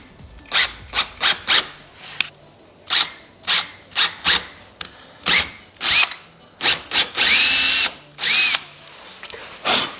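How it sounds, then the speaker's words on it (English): Power drill boring into the bumper of a Subaru WRX: about a dozen short, loud whirring bursts in quick succession, ending in a few longer high-pitched grinding runs, close and alone without talk. "Boys, I just drilled into my bumper."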